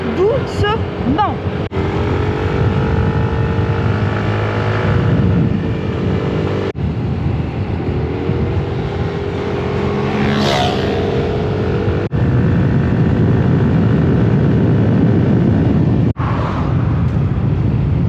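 A scooter ridden slowly along a road on Langkawi, its engine droning steadily up close with wind rush, while a voice speaks over it almost continuously.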